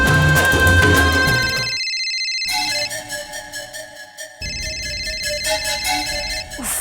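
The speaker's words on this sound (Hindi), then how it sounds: "घड़ी घड़ी फोन करती रहती है।" A loud electronic phone ringtone plays an incoming call melody in a home setting, sustained tones repeating with a brief gap partway through before resuming.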